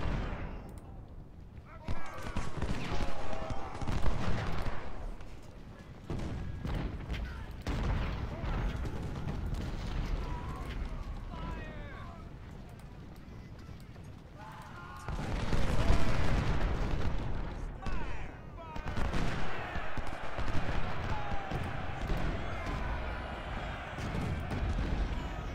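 Gunfire in the Civil War strategy game Ultimate General Civil War, set at the Battle of Stones River: distant volleys and booming cannon-like blasts in repeated bursts, with someone talking over them.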